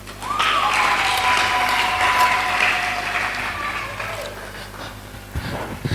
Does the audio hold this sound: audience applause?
yes